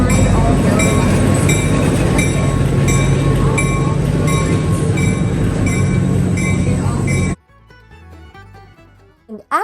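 A train rumbles loudly past with a steady metallic drone and high squealing tones, then cuts off abruptly to quiet with faint clicks.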